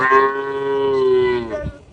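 A Mundi heifer at a dairy farm near Dhaka gives one loud, close, drawn-out moo lasting about a second and a half, tailing off with a soft grunt.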